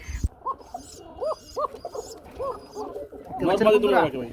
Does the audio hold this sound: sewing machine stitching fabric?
no